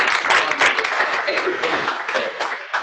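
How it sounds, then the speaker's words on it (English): Attendees at a team meeting give a steady round of applause, moderately loud and continuous for a few seconds, with some voices mixed in. "let's give Shelby a big round of applause."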